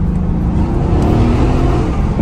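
A Mercedes-AMG GT S tuned to over 500 hp runs close by with a loud, steady, deep engine rumble held for a couple of seconds, no voices.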